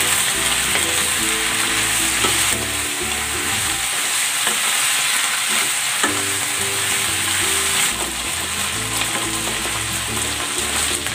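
Chicken frying in a pan with pepper and mushroom, a loud steady sizzle throughout, with spatula scrapes and clatters of stirring recurring every few seconds; close, no talk.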